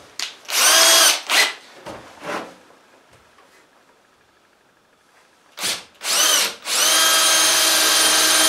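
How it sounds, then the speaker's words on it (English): A power drill counterboring screw holes in wood for plugs, heard close in several short whirring bursts with pauses between, then a longer steady run at the end, with no talk. "We're counter boring the holes a little bit because I want to put plugs on top of the screws."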